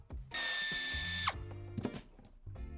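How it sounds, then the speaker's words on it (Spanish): A power driver whirs for about a second, backing out a screw from the interior trim of a Mercedes-Benz GLS, followed by clicks and light handling of trim pieces nearby. "retiramos el tornillo que sujeta esta pieza en la parte central"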